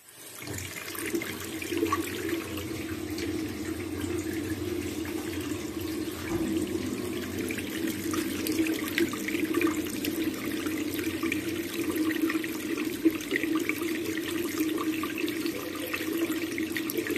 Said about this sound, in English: let us turn the hot water on